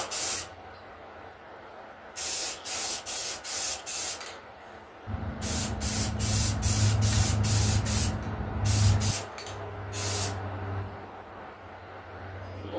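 An aerosol spray can lays a light coat onto an automotive distribution block in a run of short hissing bursts. A longer stretch of spraying follows, close and fairly loud, over a low background rumble.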